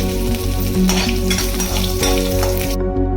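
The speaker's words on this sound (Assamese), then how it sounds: "এতিয়া আমাৰ তেলখিনি ভালদৰে গৰম হৈ গ'ল আৰু সেইকাৰণে মই এতিয়া ইয়াত ফোৰণৰ কাৰণে ব্যৱহাৰ কৰিম প্ৰথমতেই 5 ফোৰণ" Five-spice seeds fry in hot oil for an Assamese chicken thali, a loud, close, continuous crackling sizzle with small popping bursts that stops abruptly just before the end.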